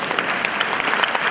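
An audience at a stand-up comedy show in Macedonia claps together, a dense, even patter of many hands heard briefly and at moderate volume.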